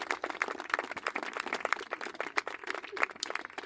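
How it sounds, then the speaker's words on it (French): Faint applause from a few people during a radio quiz show: quick, irregular claps in a steady patter, fairly distant and low in level. "je peux applaudir"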